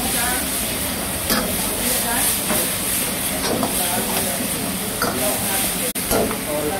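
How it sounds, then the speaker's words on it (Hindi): Mustard seeds, cumin, dried red chili and turmeric sizzle steadily in hot oil, a continuous close hiss with faint crackles and stirring clinks, as a voice talks over it. "हम इसमें डाले हैं राई, जीरा और सूखी मिर्ची, ड्राई रेड चिली और थोड़ा सा हल्दी डाल देंगे"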